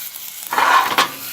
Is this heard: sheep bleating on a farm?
no